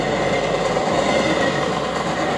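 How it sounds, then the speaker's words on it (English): A train passing sound effect played on a theatre stage, a steady, dense roar and faint rhythmic clatter of wheels on track, loud and continuous throughout with no voices. "So now it actually sounds like the train is going past."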